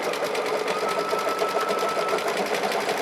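An embroidery machine runs at top stitching speed, a loud, fast, even mechanical chatter of rapid needle strokes that holds steady for a few seconds with no voices.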